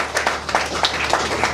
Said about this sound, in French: Voilà, sous vos applaudissements